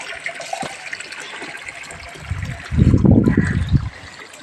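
Water runs from a pipe into a tank at a house, a light trickle at first that turns into a louder gushing splash for about a second before easing off.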